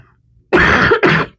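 A person with a nasty cold lets out a loud, close, raspy throat clearing, then a short second harsh cough right after.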